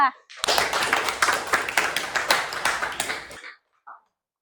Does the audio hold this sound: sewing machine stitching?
no